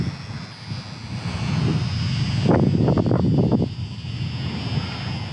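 An FMS PA-18 Super Cub micro RC plane flies outdoors in light wind, its small propeller motor droning and swelling louder as it passes close by, then easing off again, with wind noise on the microphone.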